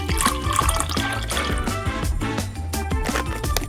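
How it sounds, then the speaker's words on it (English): Water running into an old rubber glove, a steady gushing, splashing flow with small drips, close and continuous, with no talk. "Grab an old rubber glove. Fill it with water."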